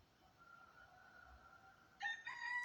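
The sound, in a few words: rooster crowing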